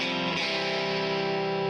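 A guitar runs through an engaged Electro Harmonix distortion pedal set as an EQ, with bass and treble boosted, ringing out as a bright sustained chord, loud and close.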